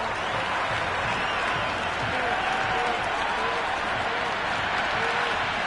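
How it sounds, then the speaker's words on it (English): Dense, steady crowd roar with scattered applause filling a cricket ground in the Cricket 26 video game during an IPL 2026 match, loud and continuous throughout with no clear breaks. "the crowd have joined the party. It's pretty noisy at the ground"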